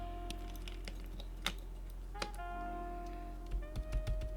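Keys on a Royal Kludge RK84 keyboard fitted with Gazzew Boba U4 Silent switches give muted, scattered clicks over a steady background hum, with a few low thumps near the end.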